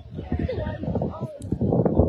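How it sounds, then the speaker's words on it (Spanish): Horses whinny and shuffle their hooves around a race stable before a match between two racing stables, heard under near-constant nearby talk. "Ahí andan los caballos"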